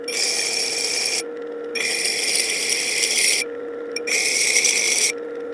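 Blade sharpened on an 80 grit abrasive in a shop, three steady rasping passes of about a second or more each, separated by short gaps, close and fairly loud with no talk.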